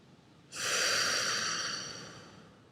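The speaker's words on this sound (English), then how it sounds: "And with a few deep breaths in," A single deep, audible breath drawn in during a guided meditation, a soft airy rush that swells quickly and slowly fades over a couple of seconds, close to the microphone with no talking.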